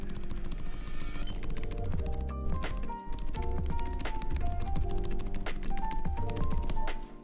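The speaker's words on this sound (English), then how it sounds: "I am hammering the spacebar super hard right now." Sharp, repeated taps of a mechanical keyboard spacebar struck hard, loud and close, in a rapid irregular rhythm over a dense, busy background.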